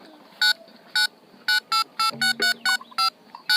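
A series of electronic keypad tones as a phone number is dialed, beeps in an uneven rhythm, clear and close.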